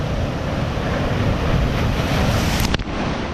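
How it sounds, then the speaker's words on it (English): Ocean waves break on the Portuguese coast in a loud, steady roar of surf, with heavy wind buffeting the microphone and a sharp gust near the end. "the waves are getting a bit crazy"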